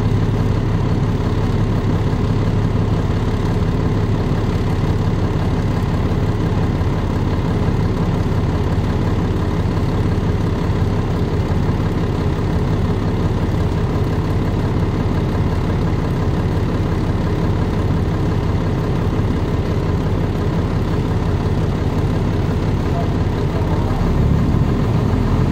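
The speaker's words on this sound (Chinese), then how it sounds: "马上启动了发电机" A diesel generator inside a silent canopy runs steadily, giving a loud, unbroken low engine drone with a constant idle-like hum that holds unchanged throughout, with no voices.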